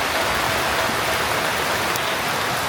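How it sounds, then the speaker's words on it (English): Steady, dense rain falls outdoors, a continuous hiss of drops on surfaces that stays even and fairly loud throughout with no voices. "Started raining."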